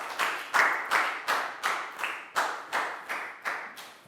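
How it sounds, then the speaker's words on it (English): A classroom of Year 4 students claps for a classmate during a math lesson, a steady run of about ten sharp clapping bursts close by, evenly spaced and moderately loud, with no talking over it. "High five and a big round of applause for Pangpon, please, guys."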